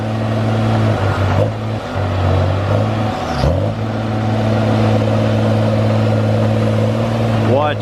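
A Tigercat 635D skidder's diesel engine pulls hard with a loud, steady, close growl and a few brief dips and clanks, voices talking over the sustained roar.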